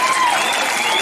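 A crowd claps steadily at a political rally in Kuppam where minister Peddireddy Ramachandra Reddy is speaking, a brief burst of dense applause filling the moment.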